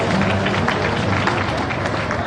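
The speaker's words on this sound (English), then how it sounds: "Another round of applause" Dense, steady applause from a large crowd at a business forum fills the whole stretch, loud and continuous without pause.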